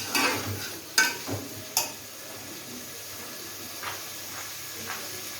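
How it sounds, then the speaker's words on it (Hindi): Tomatoes softening as they fry in a pan for a home-cooked biryani masala: a faint, steady sizzle with a few sharp utensil clinks and stirring knocks near the start, no talking. "टमाटर भी थोड़ा सा पहले मैं फ्राई कर लूँ, टमाटर को गला लूँ।"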